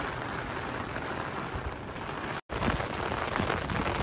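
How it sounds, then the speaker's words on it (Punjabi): Steady rain near Baijnath temple in Palampur, a dense continuous hiss of drops on surfaces outdoors with a brief dropout midway, no talking. "ਸਾਰੇ ਪਾਸੇ ਬਾਰਿਸ਼ ਹੀ ਬਾਰਿਸ਼।"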